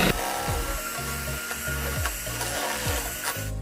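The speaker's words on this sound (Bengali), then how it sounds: "সাদা তেলটা দিয়ে আর ডিমটা দিয়েও আমরা একটু ব্লেন্ড করে নেব" Electric blender whirring on oil and egg for chocolate cake batter, a steady close motor drone with repeated low pulses as the blade mix churns, no talking.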